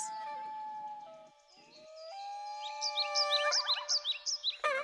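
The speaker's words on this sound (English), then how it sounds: "he could hear the birds singing while he sat studying his books" Several birds sing and chirp in rising, repeated phrases over a steady tonal background, the calls growing busier and louder toward the end.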